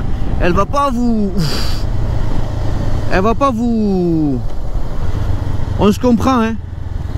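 A 2023 Honda CBR 500 R motorcycle accelerates hard three times, each run a rising engine whine climbing through the revs before dropping, heard close under wind noise while a rider speaks French.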